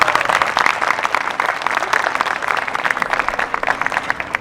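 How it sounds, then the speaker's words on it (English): Parents and audience at an eighth-grade school choir concert applaud, a lively, crackling mass of clapping with individual sharp claps standing out, sustained evenly throughout. "Let's give him a round of applause."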